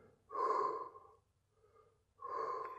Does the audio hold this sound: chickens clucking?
no